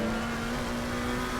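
Race car in Assetto Corsa Competizione on the Nordschleife downshifting under engine braking, a steady droning engine tone holding at moderate level through a short stretch with no voices.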